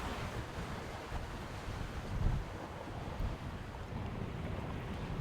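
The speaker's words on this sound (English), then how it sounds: "So happy we got some wind." Steady wind buffeting the microphone and waves washing against a sailboat off Turkey's south coast, a continuous, fairly faint rushing noise with no talk.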